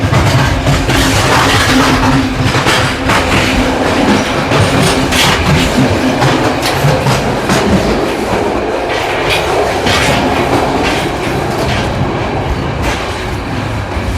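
A long train ride from Bulgaria to Romania gives a constant rumbling rattle of rail wheels with rhythmic clickety-clack and occasional squeals, loud and close from inside the carriage.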